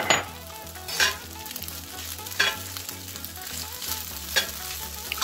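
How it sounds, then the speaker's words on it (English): Shrimp sizzling and frying in a pan for a tornado omelet omurice, with a steady crackle and periodic scraping stir strokes roughly every second or so, close and clear with no talk. "I'm going to stir, add my shrimp."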